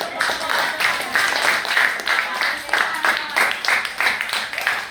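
A class of students in an Indonesian science lesson claps together in a patterned rhythm, repeated bursts of group clapping close by at a lively, even beat.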